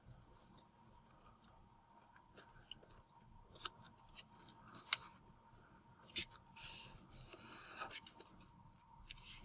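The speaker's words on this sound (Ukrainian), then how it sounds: "беремо верхній листок і загинаємо його до центральної лінії" A paper sheet is creased and folded into an origami flower, giving soft rubbing and crinkling sounds with a few sharp crisp snaps, faint and close, with no talking.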